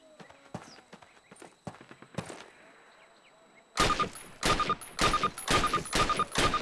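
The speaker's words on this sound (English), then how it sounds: "Approach the fence and fire 6 rounds at your target." Rifle rounds fired at a target on a firing range in Call of Duty Classic, a string of loud sharp shots in quick succession after a quieter stretch of softer clicks and thuds.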